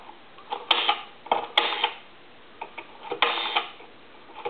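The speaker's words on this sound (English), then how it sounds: "I'm going to go ahead and dial some numbers here." The rotary dial of an old A&E three-slot payphone is turned and released several times, each wind-up followed by a rapid run of clicking ticks as it spins back, close and distinct.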